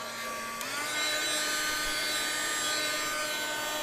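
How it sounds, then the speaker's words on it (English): An embossing heat tool blows hot air to melt embossing powder, a steady close whooshing roar that steps up in pitch and loudness as it gets going and then holds constant. "warm up your heat tool"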